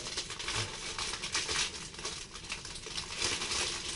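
Crinkling plastic packaging of a motorcycle decal kit for a KTM 390 Duke being handled and opened, a steady close rustle and crackle running throughout without pauses.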